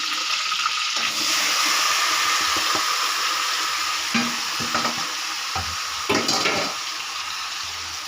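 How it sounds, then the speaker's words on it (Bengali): Marinated chicken pieces dropped into a pan of fried-down masala for a chicken kosha, giving a loud, steady, close frying hiss with occasional scrapes and knocks of stirring. "এবারে দিয়ে দেব ম্যারিনেট করা মাংসগুলো"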